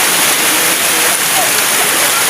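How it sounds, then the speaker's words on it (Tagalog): Heavy rain pours down in a dense, continuous hiss, loud and close with no let-up, briefly overlapped by excited voices. "Grabe, napunta kami ng ulan."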